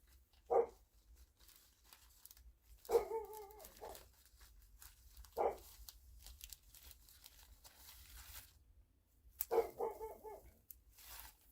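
A dog gives a few separate barks, spaced seconds apart, with soft rustling and crinkling in between in a quiet outdoor garden setting.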